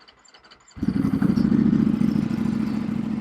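A Ducati motorcycle engine cranks and fires at once, settling into a loud, lumpy idle after a brief quiet moment.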